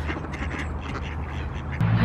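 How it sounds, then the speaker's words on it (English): Ducks quacking near a SkyTrain station outdoors, a busy overlapping chorus of nasal quacks close by, with a louder burst near the end, against a low city hum. "Ducks from hell."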